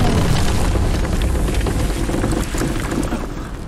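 A huge atomic bomb test blast from the film Oppenheimer rolls out as a deep, sustained rumbling boom, loud and steady throughout before easing slightly toward the end, with no voices.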